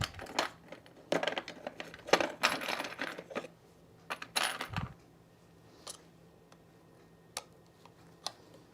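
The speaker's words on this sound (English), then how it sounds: "let me take off my zipper foot." Sewing machine presser foot, a zipper foot, being unclipped and removed: a quick series of sharp metallic clicks and taps at close range, followed by a few isolated faint ticks in quiet.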